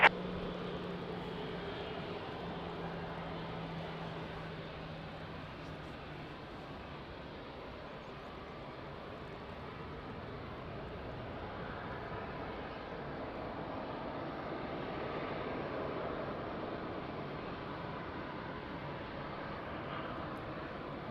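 An airliner lands at Lisbon Airport on a rainy, windy day, its engines a broad, steady roar that swells gently and holds for about twenty seconds, heard from a distance.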